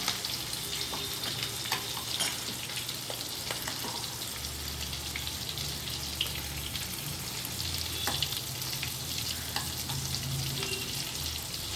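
Steady frying sizzle from a pan of mixed ingredients, with occasional stirring clinks and a low hum underneath, continuous and fairly close.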